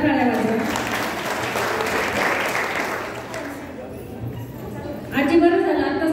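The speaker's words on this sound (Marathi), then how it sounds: "होणाऱ्या बाळाच्या आजींसाठी एकदा जोरदार टाळ्या वाजवा" Guests at a baby shower clapping for the grandmother-to-be, a dense round of applause fading through the middle and swelling again near the end, with people talking over it.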